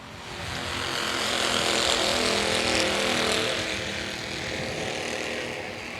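Racing karts with 30-horsepower Briggs & Stratton motors run wide open on a speedway oval, a loud, continuous, buzzing engine roar from several karts that swells slightly and then holds steady.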